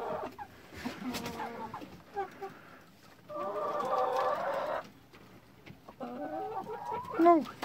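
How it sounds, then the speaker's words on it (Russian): Brooding hens and a tame rooster with a ragged comb cluck in bursts on a farm, with short pauses between and a louder squawking call near the end. "Петушок вот ручной."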